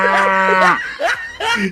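A cow moos loudly and close by, a drawn-out low call followed by two shorter bellows in quick succession.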